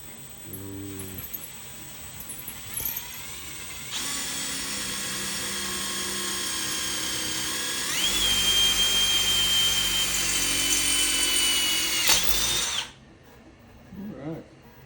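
Power drill bores into a mounting surface while a swing arm mount is installed, running in steady whirring bursts for about twelve seconds with the pitch rising midway, close and loud, then stopping abruptly.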